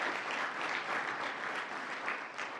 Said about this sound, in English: Robert Smullen, we'll give him a round of applause